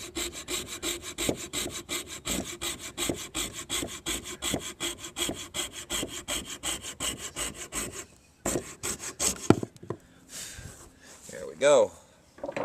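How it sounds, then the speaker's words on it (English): Handsaw cutting a deck board with a long run of steady, rhythmic rasping strokes, nearby and fairly loud, then a few slower final strokes and a pause, with some brief background noise near the end. "So to have a handsaw like this is pretty nice."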